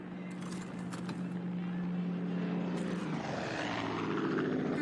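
A propeller airplane flying overhead in the video game Far Cry 5, a steady droning engine that shifts pitch as it passes, heard alone at moderate loudness.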